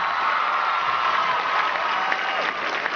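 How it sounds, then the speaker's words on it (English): At a comedy awards show, a large audience applauds for Jessica Simpson, the thick, even clapping sustained from start to finish with faint cheering mixed in. "Give her a big round of applause"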